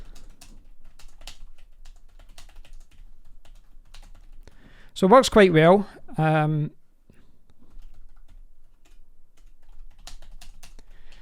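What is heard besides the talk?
typing on wireless computer keyboard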